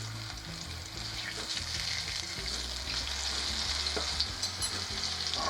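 Fish frying in a pan for a Brazilian moqueca, a steady loud sizzle and crackle running throughout with occasional stirring clatter, no voices.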